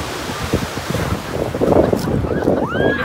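Waves break on the beach at Olginka on the Russian coast under overcast skies, a loud surging rush mixed with strong wind buffeting the microphone, and a few faint voices sit in the background.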